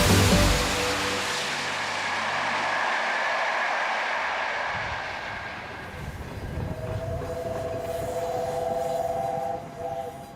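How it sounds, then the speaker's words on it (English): The Peppercorn Class A1 Pacific steam locomotive Tornado thunders past close by, roaring and rushing, then recedes as a long whistle sounds in the distance. "A steam locomotive on a mission."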